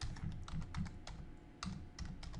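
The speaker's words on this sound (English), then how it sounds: "let me type it in the chat window" Keys click and patter on a computer keyboard in quick irregular runs as text is entered into a chat window, close and fairly quiet with no speech.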